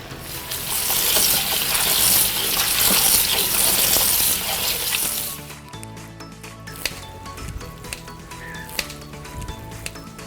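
Cooked japchae noodles rinsed under a running kitchen tap, a loud gushing splash for about five seconds, then the flow stops and scattered drips and small knocks follow.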